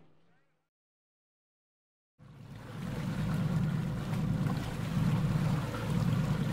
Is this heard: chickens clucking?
no